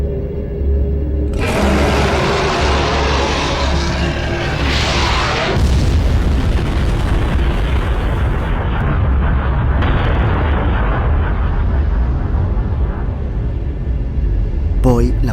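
Deep booming explosions from an asteroid impact roll into a sustained rumbling roar with bursts of crackle, loud and continuous throughout.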